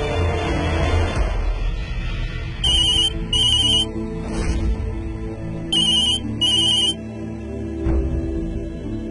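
A telephone rings in repeated short electronic bursts, four or five evenly spaced trills over a background of dramatic television music.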